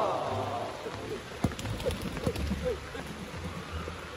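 Steady rain patters outdoors, close and continuous, with scattered heavier drops striking surfaces.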